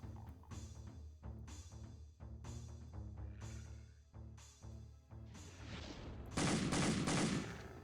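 Pistol fire in the Doom mod Twice a Veteran: a run of sharp, loud single shots at irregular intervals, ending in a brighter burst of overlapping blasts, with no talking.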